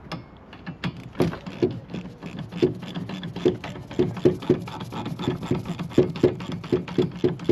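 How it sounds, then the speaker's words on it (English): A screwdriver prying the wiper arm caps off a 2021 Ram 1500 for windshield replacement: a steady run of quick scraping clicks and taps, close and fairly loud, with no talking. "Going to take our ever-present screwdriver and pop these wiper caps off here."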